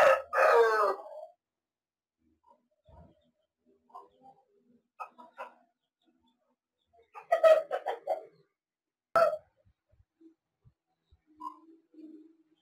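An aseel rooster on a chicken farm crows loudly and close at the start, followed by scattered clucks and softer calls, with another crow-like burst near the middle and later.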